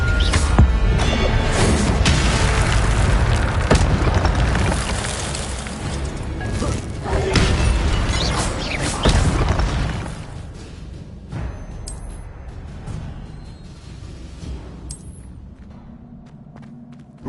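An Incendio fire spell cast in Hogwarts Legacy on PS5, a burst of booming thuds and whooshing flame blasts amid loud combat effects that fade to quieter ambience, no voices.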